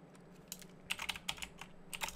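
Close, crisp computer keyboard typing while renaming an item in MODO, short bursts of quick keystrokes with brief pauses in a quiet room.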